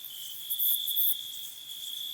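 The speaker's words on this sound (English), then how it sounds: "Yeah, crickets." Crickets chirp in a steady, high, continuous trill used as a comedic silence gag, clear and alone, with a brief brighter pulse near the start.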